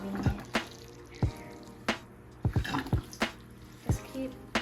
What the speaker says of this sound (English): Just keep pressing the pump until you fill up the tube with water